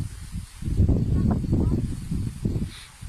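Gusty morning wind buffets and rumbles close by on a farm, a rough, low blustering roar that swells and eases over a few seconds.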